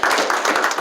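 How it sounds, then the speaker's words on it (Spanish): A church congregation claps hands together in a steady, brisk rhythm of overlapping claps, loud and close, with no voices over it. "Dale una ofrenda de palmas al Señor."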